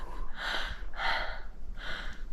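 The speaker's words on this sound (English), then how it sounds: "What's this heavy breathing here, the back here?" Three heavy, breathy exhalations come close to the mic, each about half a second long, with steady wind-like background noise while someone climbs Bluff Knoll in the Stirling Ranges of Western Australia.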